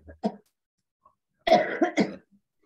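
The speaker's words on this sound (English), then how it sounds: "I'm still coughing." A person coughs close by: one short cough, a pause, then a harsher burst of two or three quick coughs in a quiet room.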